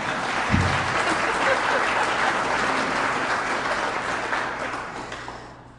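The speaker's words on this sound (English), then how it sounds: "You can clap for that." Audience applause at an economic development appreciation reception, a broad sustained round of clapping that gradually fades out, with faint talk beneath it.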